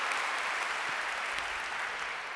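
A studio audience at a science celebration show claps steadily in a thick, even wash of applause with a few louder individual claps, alone and without voices.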